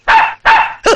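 A dog gives two loud, close barks followed by a shorter yelp in quick succession during a Tamil comedy scene, with no talk over them.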